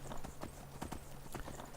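Hooves of a video game horse clip-clop on a mountain pass in a steady, fairly close rhythm of sharp knocks over a low hum, with no talking.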